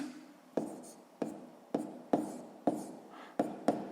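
Marker or pen writing math by hand on a board or paper, with a series of sharp strokes and taps in uneven rhythm, close and fairly quiet, no talking.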